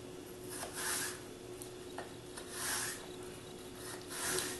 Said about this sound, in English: I just drag the knife through the apple, and you wind up getting beautifully thin slices